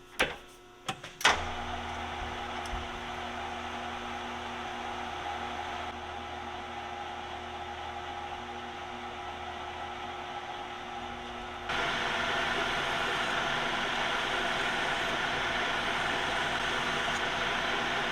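A lathe spins while chamfering the corner and thread end of a stainless steel pin, a steady close machine whir with a few sharp clicks at the start and a louder, brighter cutting hiss in the later part.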